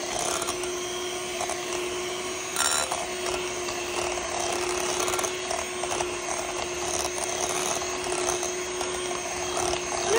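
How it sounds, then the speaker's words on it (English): Handheld electric beaters blend feta and ricotta cheese in a bowl, a steady close mechanical whir with a constant motor tone and rattling, scraping texture, running throughout without talk. "we're going to blend them together using our handheld beaters"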